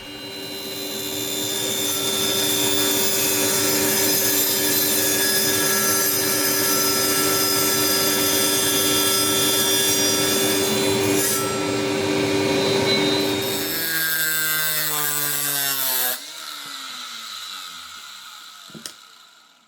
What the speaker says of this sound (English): I've got a table saw with a proper blade put in it to make this cut